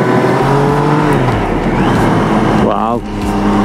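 A car engine roars loudly and steadily as it overtakes a bicycle on a mountain hairpin bend during a summer road tour, the revs rising and falling near the microphone while voices chatter over it.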